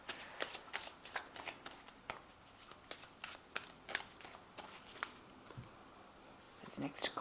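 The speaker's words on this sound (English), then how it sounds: "Now I have shuffled this deck." Tarot cards shuffled by hand in a quiet room, with a run of crisp riffling snaps and soft slaps coming close and fairly loud. The bursts arrive in an uneven rhythm, and a louder flurry sounds at the end.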